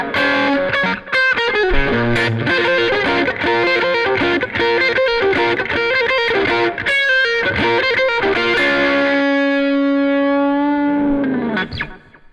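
An electric guitar lick played through distortion and effects, a fast run of bright notes and bends that settles into a long sustained note, then cuts off near the end.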